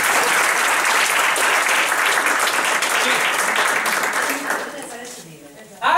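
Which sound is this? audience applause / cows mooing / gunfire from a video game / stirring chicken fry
audience applause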